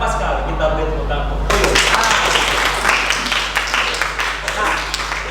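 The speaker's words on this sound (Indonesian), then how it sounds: "Kita beri tepuk tangan." Classroom applause from students after a lesson answer, a burst of clapping starting partway through and continuing steadily over a low background hum, with some voices mixed in.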